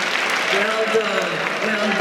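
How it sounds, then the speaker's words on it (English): Applause from an audience at a Nigerian women's event addressed by the governor's wife, a steady dense wash of clapping with voices talking over it throughout. "Keep the applause coming, please."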